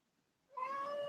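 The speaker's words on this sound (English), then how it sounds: "You guys want to see this kitty?" A pet cat lets out a single clear, drawn-out meow that starts suddenly after a quiet moment and carries on to the end, close and alone.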